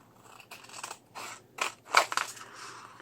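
Scissors trim pieces of cut plastic with a series of close, crunchy snips in irregular bursts, some sharper and louder than others, and no talking.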